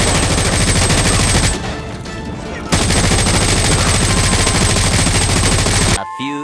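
L86 machine gun fire in Call of Duty Modern Warfare 2 plays as loud, sustained rapid automatic bursts with a brief lull in the middle before the firing resumes, then a sudden cut to quieter game sound.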